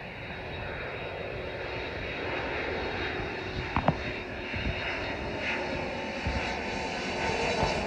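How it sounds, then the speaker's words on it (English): A large airplane flies over a windy outdoor vegetable garden. Its engine roar holds steady and loud throughout, with wind rushing around it and a few brief knocks near the middle. "And we have a plane flying over."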